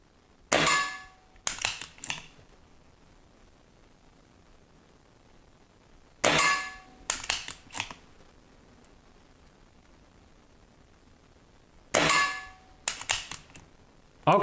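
Diana Bandit air pistol magazine being loaded, with sharp metallic clicks and snaps arriving in three close-up clusters about six seconds apart and near silence between them.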